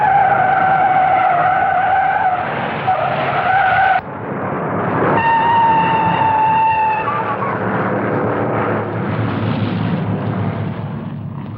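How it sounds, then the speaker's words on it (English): Race cars at the 1960 Daytona 500 skid and slide across the track, a loud continuous screech of tires over roaring engines with sustained whining tones, all through the clip and with no speech. "Four cars slide all over the track, and only luck keeps more of them out of danger."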